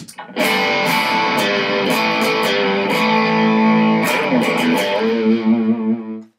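An electric guitar run through an overdrive pedal with a Juggy boost pedal engaged, thick, loud distorted chords strummed with sharp rhythmic accents, held notes ringing out and fading at the end.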